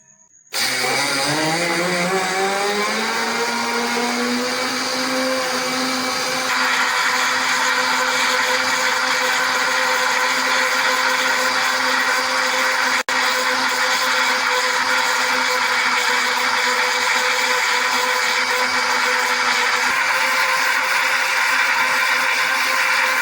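An electric blender grinding Bengali lassi with sugar and salt, spinning up from a brief start into a loud, steady high whine that holds unbroken and alone for over twenty seconds.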